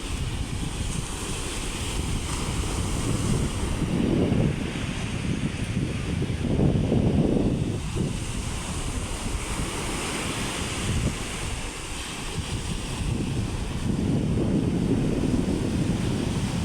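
Sea waves wash onto a beach in Nasugbu, Batangas, a steady roar of surf swelling and receding every few seconds, mixed with heavy wind rumble across the microphone.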